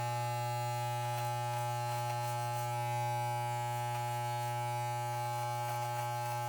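An electric beard trimmer fitted with a half-inch guard buzzes steadily up close, a constant tonal hum with faint crackling as hair is cut, no voices.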